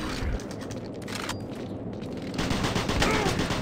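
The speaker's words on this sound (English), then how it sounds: "I'm so good at shooting." Rapid gunfire in Doom 3 BFG Edition, played on Xbox One: a dense, sustained burst of shots with booming low end that runs the whole stretch and swells louder toward the end, with no talk over it.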